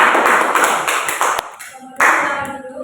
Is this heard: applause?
yes